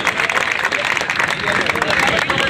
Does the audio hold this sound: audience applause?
yes